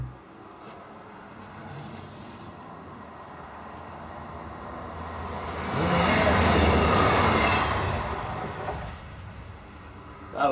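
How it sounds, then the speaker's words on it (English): A train passes nearby, its rumble rising from a quiet background to a loud rushing roar at its peak, then easing away before a sudden knock at the end. "That was a train."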